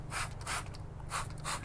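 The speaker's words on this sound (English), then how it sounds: "got the wheel cleaner ready to go, so spray it on. I do like these spray triggers." A trigger spray bottle of reactive wheel cleaner fires four quick close hissing sprays in two pairs, applying cleaner to a car wheel.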